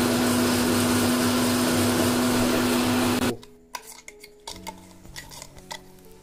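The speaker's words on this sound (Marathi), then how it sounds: "चला आता मसाला दळून घेऊया।" An electric mixer grinder grinds spice masala into a fine paste with a loud, steady whirring roar and motor hum, then stops abruptly, leaving faint clinks and handling sounds of the jar.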